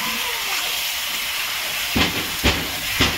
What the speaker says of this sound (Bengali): আমার চিকেনটা দেওয়া হয়ে গেল।